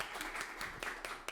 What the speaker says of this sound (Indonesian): Apresiasi, boleh tepuk tangan.